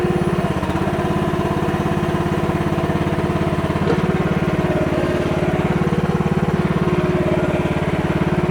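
A MH12RX mini excavator runs at a steady, loud mid-pitched engine drone while swinging around, close up and continuous, with no voices.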